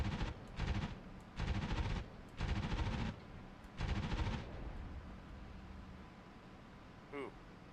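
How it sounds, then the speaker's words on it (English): 23mm cannon rounds strike an F-86 jet in the DCS flight simulator, four loud rhythmic bursts of impacts over steady engine drone, followed by quieter cockpit hum, with a voice speaking briefly. "I don't like the sound that made when the 23mm cannon hit my jet."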